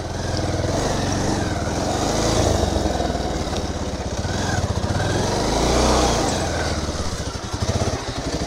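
A motorcycle engine runs steadily as the bike is moved into a parking lot, a loud, close low rumble that swells slightly twice with throttle.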